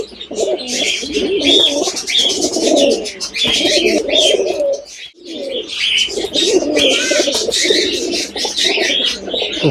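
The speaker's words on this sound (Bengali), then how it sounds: "কবুতরের ডাকগুলো শুনলে" Domestic pigeons coo repeatedly in rhythmic, throaty bursts close by, with light chirps mixed in and a brief pause midway.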